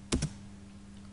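Two quick, crisp key presses on a computer keyboard while entering an AutoCAD command, close and fairly quiet over a faint steady electrical hum.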